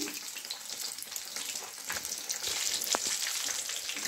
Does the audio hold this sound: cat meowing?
no